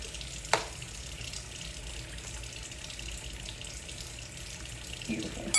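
Water streams steadily from a bathroom tap while a face is splashed wet during a skincare routine, with a continuous close rush and one small knock near the start.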